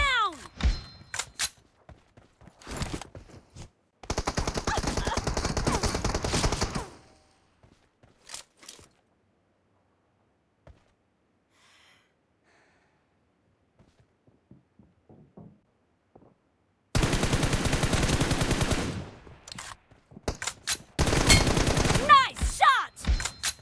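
Gunfire in a 1v1 video game match comes in sharp rapid bursts, with scattered single shots and clicks between stretches of near silence.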